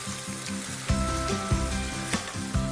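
Chicken thighs frying skin-side down in a hot pan give a steady, close sizzle, with louder hissing bursts and soft clunks of pan or utensil movement running throughout.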